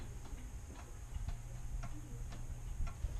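An old clock ticks at a steady, even rhythm, faint and moderately close inside a historic cottage, with a low background hum and no talking.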